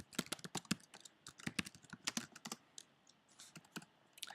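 Keystrokes on a computer keyboard while code is entered in a programming editor, arriving as quick irregular bursts of close, crisp clicks with brief pauses between them, and no voices.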